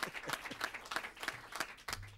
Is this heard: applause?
yes